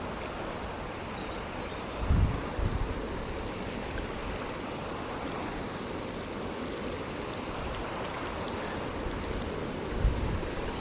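River water rushing steadily over a small weir, a continuous loud broadband roar close by, with no voices over it.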